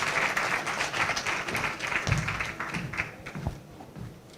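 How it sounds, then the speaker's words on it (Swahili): Thin audience applause at a women's leadership awards event, scattered clapping from a modest crowd that fades out toward the end with some taps and knocks. "Tumpigie makofi jamani"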